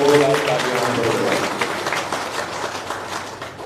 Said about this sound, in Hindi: ऐसे समर्पित हमारे जिलाध्यक्ष दिनेश उपाध्याय जी के लिए 2 लाख तालियां।